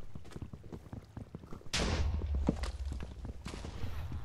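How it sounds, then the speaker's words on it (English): A game world erupts in a rapid string of small explosions, sharp pops and thuds crowding together, then a louder sustained rumble of blasts following after a quieter opening of scattered cracks. "Tons of little explosions."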